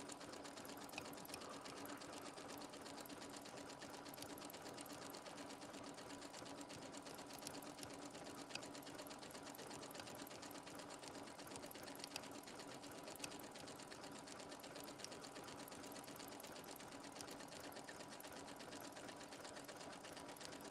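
A sewing machine runs steadily and continuously, stitching and overlapping a seam before knotting off, heard faint and somewhat distant with a constant mechanical hum.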